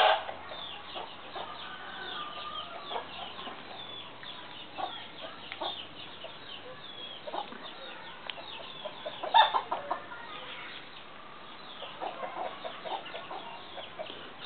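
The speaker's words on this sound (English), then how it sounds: "And there are more chickens there on the other side." Chickens clucking in a rural family compound in Capiz, the Visayas, Philippines, with scattered soft clucks and calls from several birds at a moderate distance over a quiet background.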